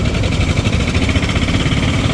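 An auto rickshaw engine idles near a hill temple road at Annavaram, a steady low rumble with a mid-pitched vibrating chug that holds evenly throughout, with no talking.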